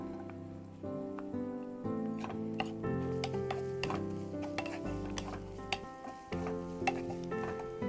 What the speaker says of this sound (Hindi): जब तेल गरम हो जाए हम डालेंगे प्याज